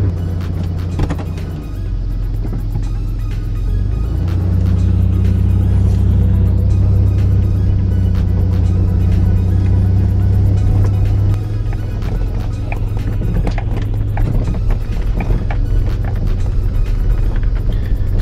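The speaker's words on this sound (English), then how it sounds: "we're gonna pull the vehicle around so you guys can get the first look" A car that does not sit low is driven around at close range, its engine rumbling steadily and then swelling louder as it pulls forward, with a continuous low drone throughout.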